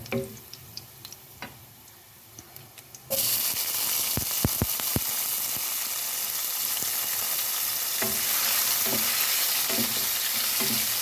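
Tomato and onion hit hot oil in a pan for ginisang ampalaya with shrimp, starting a loud steady sizzle after a quieter opening with a few clicks, followed by scattered stirring knocks, close up and without talk.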